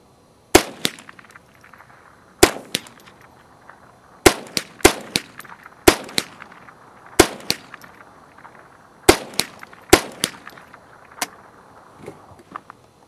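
.22 rifle shots fired at a steel pop-up popper target set at 50 yards, about a dozen sharp cracks at irregular intervals over several seconds, each followed by a short ringing decay, with no talking.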